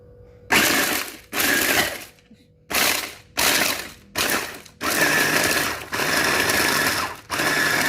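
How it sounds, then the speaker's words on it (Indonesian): An electric chopper grinds shrimp with ice cubes in bursts, each run a loud close whirring rattle separated by short pauses, the later runs longer and steadier. "ini hasil udang yang kita haluskan tadi dengan menggunakan chopper sama dikasih es"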